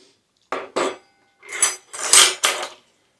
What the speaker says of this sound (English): Here's some cutlery.